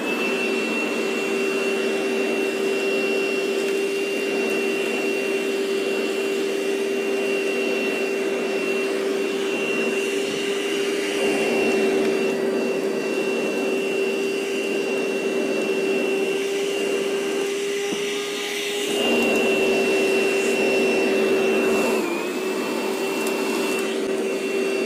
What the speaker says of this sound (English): let me vacuum up some stuff you would find around the shop